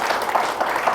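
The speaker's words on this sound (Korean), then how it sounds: "박수 부탁드리겠습니다." An audience at a talk concert with a city council member claps in a brief, moderate burst, individual claps faintly pulsing through a steady patter.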